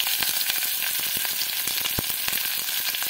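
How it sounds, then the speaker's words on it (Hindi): Onions, cumin and green chilli frying in hot oil in a pan, a dense, steady sizzle and crackle broken by small pops and occasional stirring scrapes, close and continuous with no talk. "इन सबको अच्छी तरह चलाते हुए 2 से 3 मिनट के लिए फ्राई होने दें।"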